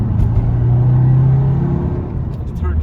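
A 2016 Honda Civic Sport with the 1.6 i-DTEC diesel engine pulls hard through first and second gear, a loud droning rumble rising in pitch and then dropping at the shift, heard from inside the cabin with someone talking over it.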